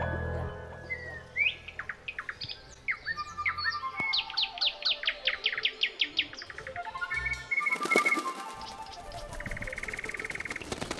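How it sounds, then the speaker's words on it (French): Several birds chirp and sing in a lively, overlapping chorus of quick trills and rising tweets, with a steady bright warble and a buzzing background later on. "toutes sortes d'oiseaux volent dans le ciel"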